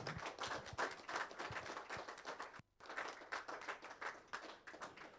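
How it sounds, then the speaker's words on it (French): A municipal council audience in Allonnes applauds an artist, steady dense clapping from a modest crowd that is fairly faint and continuous, with a brief gap partway through before the clapping resumes. "On peut l'applaudir,"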